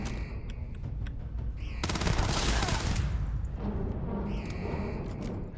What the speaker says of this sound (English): this is a shotgun, and so it's a double barrel shotgun with really, really slow reload speed